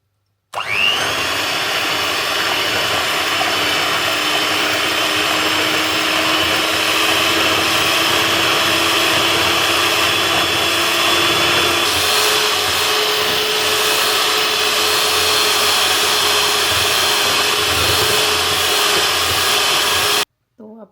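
An electric hand mixer whips cream for a birthday cake, keeping up a steady high whirring drone close by for about twenty seconds with a slight shift in pitch midway, then cutting off abruptly.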